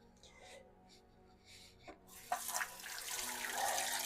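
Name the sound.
rinsing agar cups under running tap water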